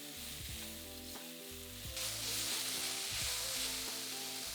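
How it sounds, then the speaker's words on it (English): Sliced onion, carrot and red pepper stir frying in a wok, a bright steady sizzle broken by repeated scraping and tossing of the vegetables, close and with no voices. "Stir fry for about 2 to 3 minutes until just starting to soften."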